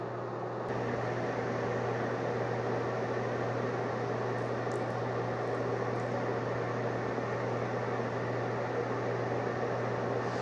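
Two oscillating electric space heaters, an Amazon Basics and a Give Best, run side by side indoors, giving a steady, even fan-like whoosh with a low constant hum that holds unchanged throughout.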